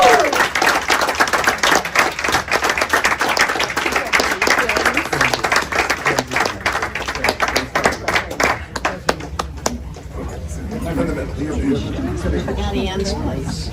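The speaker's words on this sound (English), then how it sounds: "Please join me in a huge round of applause for our fundraiser of the year" A crowd claps warmly for an honoree at a fundraiser awards event, with dense sustained applause that thins out after about ten seconds. Chatter and voices carry on underneath as the clapping fades.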